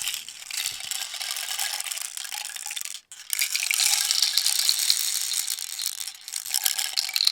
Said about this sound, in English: As it goes through all these little balls within the tube, they make different noises as they hit the different textures within the sensory tube.